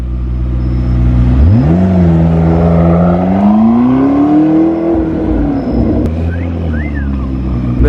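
A Ferrari supercar engine catches and settles into a strong, steady idle, its tone climbing as it is revved gently and held high for a few seconds before easing back down, loud and close with no talk.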